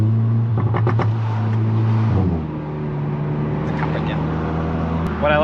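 Audi S4 B9.5 driving with a steady engine drone that drops as the revs fall, then a few small, crackly exhaust pops near the end.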